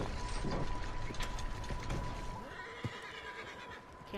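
Horses in the game Red Dead Redemption 2 neigh amid mechanical rattling and ratchet-like clicking, a wavering whinny rising later over the clatter, moderately close, with no talk.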